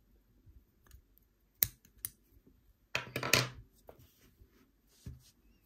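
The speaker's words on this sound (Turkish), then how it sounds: "Burada artık ipimizi kesip gizleyeceğiz arkadaşlar" Scissors snip the yarn at the end of a crochet round on a table runner, making a few sharp, quiet, close clicks separated by near silence.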